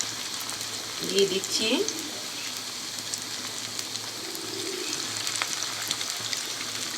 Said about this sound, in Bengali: সেই জন্য আমি চুলার আঁচটা কমিয়েই লাল লাল করে ভেজে নেব